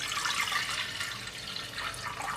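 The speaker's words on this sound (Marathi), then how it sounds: "त्यामध्ये मी इथे 2 ग्लास पाणी घालणार आहे" Water pours into a pressure cooker as a soft, steady splashing gush lasting a couple of seconds, fairly quiet.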